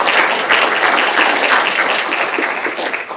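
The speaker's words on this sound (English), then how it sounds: "Please give them a round of applause for all of what they" An audience at a talk on social media and parenting gives a round of applause, dense steady clapping that holds for several seconds and then thins slightly toward the end.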